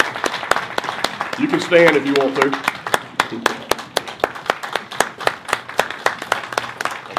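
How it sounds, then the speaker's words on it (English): Sparse, rhythmic hand clapping from a small crowd at the 2014 Capt. Henry Wirz memorial ceremony in Andersonville, honoring John Waller. Sharp individual claps continue throughout while someone speaks over them. "let's give John Waller another round of applause for his hard work"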